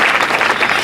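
A short burst of dense crowd applause at a Más Madrid political culture event in Madrid, loud and close, lasting under a second with no clear voices.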